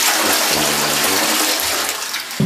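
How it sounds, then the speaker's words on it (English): A high-tech Swiss hotel toilet flushes on its number 2 button, a loud, close rush of water swirling for about two seconds before cutting off abruptly. "Now, I'm assuming that number 2 has a mightier flush."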